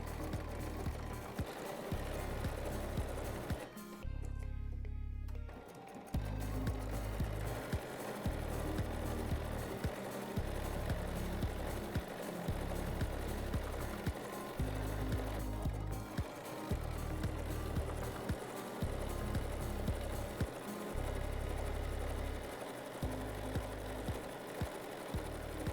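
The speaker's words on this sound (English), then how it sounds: "So just keep stitching until you've reached the desired density of your quilting." A sewing machine stitches a decorative quilting design, running in steady rapid bursts with brief pauses between runs, loud and close for the whole stretch.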